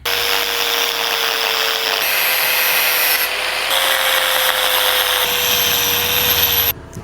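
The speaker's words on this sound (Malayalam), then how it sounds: "നമ്മൾ ഹാൻഡിൽ ഒരു പൊടിക്ക് കട്ട് ചെയ്ത് കൊടുക്കണം" A power tool cuts the handlebar of a Hero Splendor motorcycle, giving a continuous, loud, even whine with a steady pitch that holds for about seven seconds before stopping abruptly.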